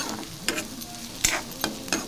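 Fish sizzles in a pan while food is stirred, with a steady frying hiss broken by a few sharp scraping stirs, close and clear with no voices.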